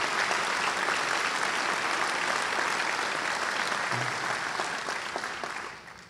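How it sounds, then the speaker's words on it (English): A crowd at a county prosecutor oath of office ceremony gives sustained applause, full and close for about five seconds before fading out near the end. "Please, let's have a round of applause for two outstanding Bergen County prosecutors."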